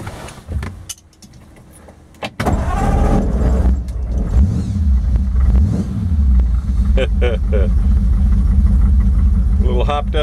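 A 1941 Ford pickup with a hopped-up H&H flathead V8 and dual Stromberg carburetors cranks after a few clicks and fires up, settling into a loud, lumpy idle with a couple of rising revs.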